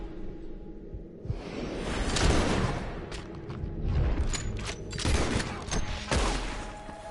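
Repeated gunshots ring out in a Red Dead Redemption 2 shootout: loud, sharp cracks in irregular bursts over a constant rumbling ambience, with no talking.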